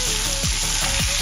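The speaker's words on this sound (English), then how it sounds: "So this process is called, searing the chicken" Chicken sears in hot oil with rosemary and oregano, a steady broad sizzle with a couple of brief scraping stirs, close and continuous throughout.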